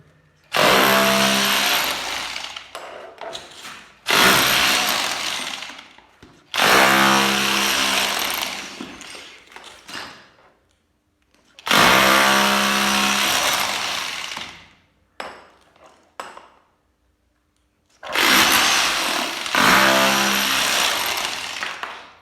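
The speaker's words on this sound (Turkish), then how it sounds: "Evet, şimdi seramik delmeye çalışalım." A Bosch GBH 2-28 SDS Plus rotary hammer drills into ceramic tile in loud, close bursts of harsh hammering roar, roughly five runs of a few seconds each separated by short pauses.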